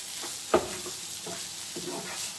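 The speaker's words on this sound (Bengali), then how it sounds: "টমেটো দিয়ে জাস্ট মিক্স করিয়া নিব আমি" Tomatoes and capsicum are stirred in a frying pan. Soft scraping stirs recur with a low sizzle underneath, and one sharper clink comes early.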